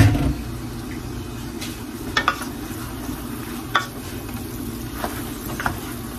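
Filipino pancit bihon noodles stirred in a pan, a soft sizzle under a low steady hum, punctuated by a few sharp utensil scrapes and clacks against the pan.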